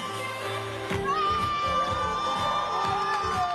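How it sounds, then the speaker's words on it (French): Frenzied fans scream and cheer in a packed hall at a male beauty pageant in Paris, a dense continuous crowd roar with shrill whoops rising throughout. "sous les cris des fans déchaînés"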